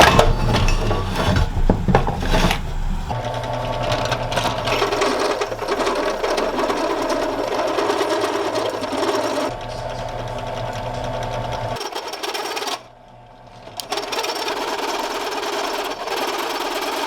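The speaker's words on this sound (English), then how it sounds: "I have the holes for the trailer drilled, and I have the holes for the receiver." A drill bores holes through a thick-walled steel frame to mount a trailer hitch receiver on a teardrop camper. The loud motor whine is held steadily, then dips briefly before starting again.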